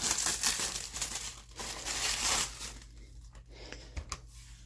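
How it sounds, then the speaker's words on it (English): Plastic wrapping is peeled and crinkled off a HobbyPlus Arktos CR18P 6x6 RC truck, close-up bursts of crackling and tearing that come in uneven handfuls, then quieter intermittent rustles. "let's get this plastic off"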